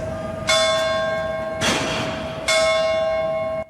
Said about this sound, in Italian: Il rintocco delle campane